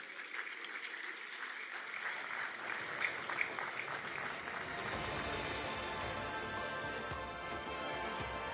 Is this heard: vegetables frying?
no